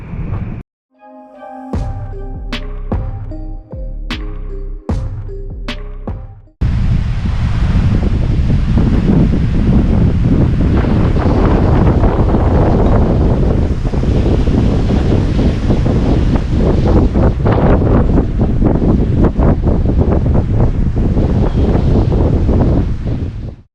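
Strong desert wind in Desert Hot Springs roars into the microphone as loud continuous buffeting, preceded by a few seconds of sharp clattering and tonal knocks.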